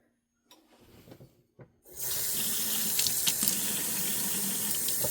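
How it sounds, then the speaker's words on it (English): Water from a kitchen tap runs steadily into a sink as cups just taken out of storage are washed by hand, with some soft clinks and handling noises before the flow starts and then a loud, continuous stream. "I'm going to go ahead and wash my cups I just got out of storage."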